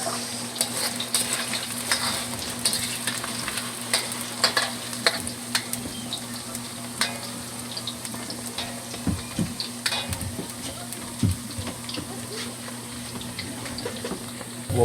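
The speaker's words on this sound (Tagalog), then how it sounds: "Puwa-puwa naman nga itong patatas nga i-fried." Potatoes frying in a pan for a Visayan home-style dish, a steady sizzle with occasional stirring scrapes and clinks, close and continuous with no talking.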